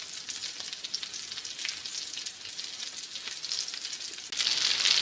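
Luffa kebabs fry in hot oil with a dense, steady close sizzle that swells louder toward the end.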